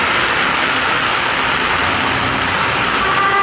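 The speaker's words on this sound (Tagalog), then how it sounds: "umulan na" Rain falls steadily, a dense continuous patter and hiss on surfaces, loud and close without a break.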